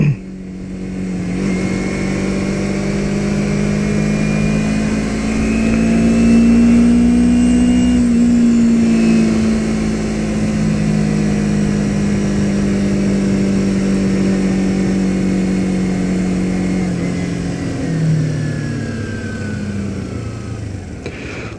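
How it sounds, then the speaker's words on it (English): Engine of a 2009 Kawasaki Ninja 250R motorcycle heard while riding in road traffic, a loud steady drone with pitch rising and falling across the ride. "Lovely traffic, can't escape it."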